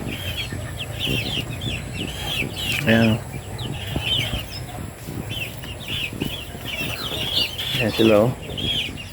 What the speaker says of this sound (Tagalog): Ayan ang ating alagang manok.